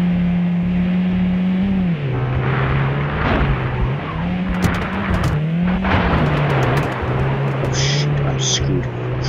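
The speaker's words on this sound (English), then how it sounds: "this car is so darn loud" A loud car engine drones close by and its pitch rises and falls as it revs, with occasional tire squeal, while a person keeps talking over it.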